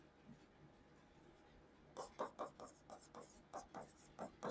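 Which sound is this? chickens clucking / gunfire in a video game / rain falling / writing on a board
writing on a board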